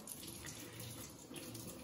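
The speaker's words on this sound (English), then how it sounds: "You washing your carrot you just picked?" Running tap water splashes steadily at a sink as a freshly picked carrot is rinsed under it, a continuous close wash with no talk.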